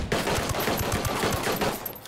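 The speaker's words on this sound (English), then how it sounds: "It shoots like an actual assault rifle." Rapid automatic assault rifle fire from Ghost Recon Breakpoint, a fast continuous burst of loud, close shots lasting about two seconds with no talking.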